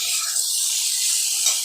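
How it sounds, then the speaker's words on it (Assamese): Raw jackfruit pieces with salt and turmeric fry in a pan, producing a loud, steady, close hiss of sizzling oil that runs unbroken for the whole moment with no voices. "এতিয়া মই এইখিনি ভালকে ভাজিব দিম"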